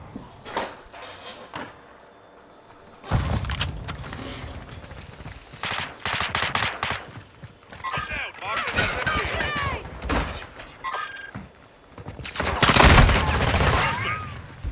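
Automatic gunfire from a player shooting in a video game, loud bursts of rapid fire recurring through the stretch, with speech heard at points in between.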